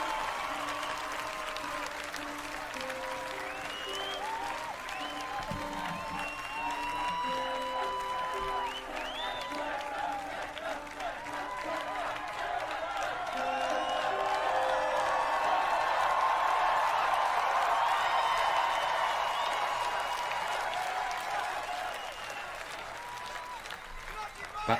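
A large concert crowd at a live tribute concert applauds and cheers steadily. The roar swells louder toward the middle, and scattered whoops and shouts stand out through the crowd.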